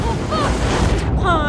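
High ocean waves surge and roar continuously around a swimmer in The Last of Us Part II, a loud broadband wash of surf and wind. A voice cries out over it.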